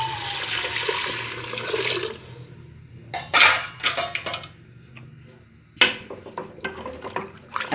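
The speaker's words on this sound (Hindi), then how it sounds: "1 कप दाल में 2 कप पानी डालूंगी।" Water gushes into a pot of washed lentils for daal for about two seconds, then gives way to a few light metallic clinks and taps against the pot.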